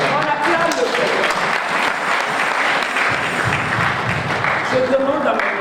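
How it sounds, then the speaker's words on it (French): A church congregation at a women's day service in Mainz bursts into sustained, dense applause, loud and continuous throughout, with voices mixed in among the clapping. "On acclame le Seigneur."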